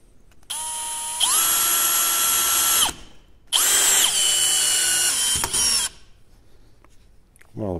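A Bosch Professional GSB 185 Li cordless drill whirs loudly close by in two sustained bursts, its motor pitch rising as it speeds up, separated by a brief pause and ending with a short clicking ratchet-like stutter.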